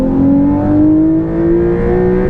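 A modified Porsche 911 992.2 pulls hard in second gear, its engine note climbing smoothly and loudly in pitch without a break, heard from inside the car.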